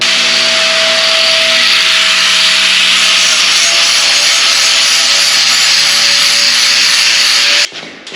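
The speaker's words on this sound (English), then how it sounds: "Now that it's all done, I'm gonna grind it down real quick" An angle grinder wears down welds on a steel sheet metal truck bed for a 1930 pickup, a loud, sustained, high whining hiss with a steady tone that stops abruptly near the end.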